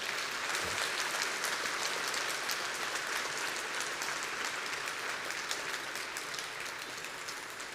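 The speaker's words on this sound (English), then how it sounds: "So one more round of applause for that." Audience applause after a talk, a dense, even wash of many hands clapping that holds steady for several seconds, with no voices over it.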